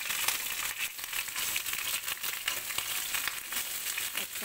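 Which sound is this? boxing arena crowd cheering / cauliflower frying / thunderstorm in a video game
cauliflower frying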